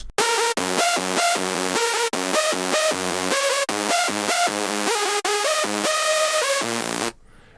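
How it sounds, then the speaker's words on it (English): A bright, buzzy Hercules V3 synthesizer lead plays a choppy staccato melody in short rhythmic bursts, loud and alone, ending abruptly. "Some kind of buzz lead."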